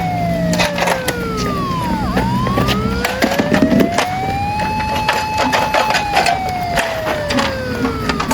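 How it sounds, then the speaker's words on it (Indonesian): A loud ambulance siren sweeping slowly up and down as the ambulance arrives at a first-aid exercise, close by, over rumbling engine and clattering background noise. "Ambulans sudah datang."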